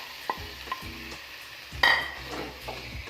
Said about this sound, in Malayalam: ഓയിൽ നന്നായിട്ട് ചൂടായിട്ട് വരുമ്പോൾ നമ്മുടെ സോയാ സോസും ഉപ്പൊക്കെ ഇട്ട് വെച്ചിട്ടുള്ള നമ്മുടെ ചിക്കൻ ഇതിലോട്ടേക്ക് ചേർത്ത്